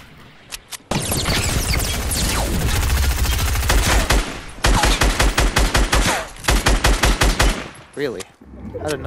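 Rapid gunfire in the Fortnite Battle Royale video game: loud, dense bursts of automatic shots in quick rhythmic volleys, near and continuous, with brief pauses and a few scattered single shots at the end.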